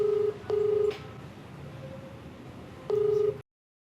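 Telephone keypad tones beep in three short steady bursts, with a faint ringback tone pulsing between them, as a call is dialed and connected for a TV program phone-in. No one speaks.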